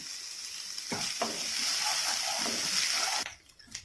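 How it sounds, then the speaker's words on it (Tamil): Chopped onion with curry leaves frying in a pan for a chutney, a bright steady sizzle with a few stirring knocks, cutting off sharply near the end, no talking. "இதையும் நல்லா ஃப்ரை பண்ணி விடுங்க, கலர் நல்லா சேஞ்ச் ஆகட்டும்."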